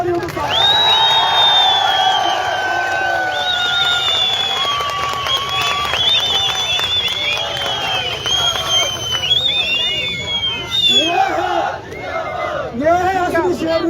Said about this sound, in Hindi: इस शेरनी के लिए जोरदार तालियों के साथ।